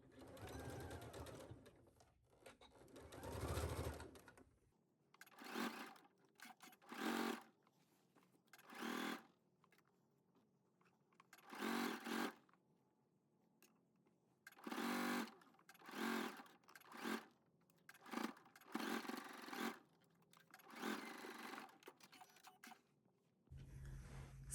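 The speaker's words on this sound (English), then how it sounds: "I'm going to pick this up and continue sewing on the other side" A sewing machine stitching a lined dress, running in short bursts of a few seconds separated by pauses, close and clear with no one talking.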